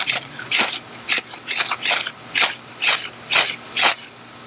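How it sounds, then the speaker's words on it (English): A knife spine scrapes down a Schrade ferro rod about nine times in a steady rhythm, each stroke a sharp, bright rasping hiss, close and loud with no talk. "I got the Schrade ferro rod out here."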